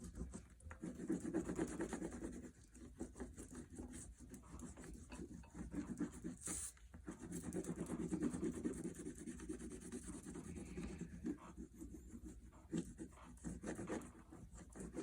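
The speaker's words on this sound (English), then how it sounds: "I'm going to pick a darker blue and color it in on this side of my drawing" A dark blue colored pencil scratches and rubs across paper in continuous back-and-forth strokes while filling in a drawing's night sky, faint and close, with short pauses between bursts.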